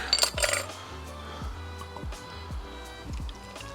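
Cider glugging from a bottle into a Dutch oven holding a ham, a run of rhythmic gulping pours with a glassy clink at the start, close and without talk.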